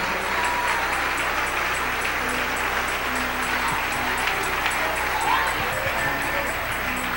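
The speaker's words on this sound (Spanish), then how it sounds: "Dale ese aplauso al Rey." A church congregation applauds for God during a sermon: a dense, steady wash of many hands clapping at once, loud and unbroken for the full stretch, with faint voices mixed into the crowd noise.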